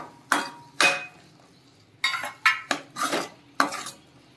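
Cooked chana dal and peanuts are stirred together in a pot, and a spoon clatters against its metal sides in sharp, close scrapes and knocks, two at first and then several more after a pause.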